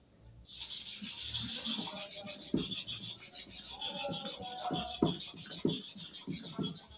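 Starex hair clipper blades are rubbed back and forth on a sharpening stone, giving steady close scraping strokes with uneven rhythmic accents and no talking.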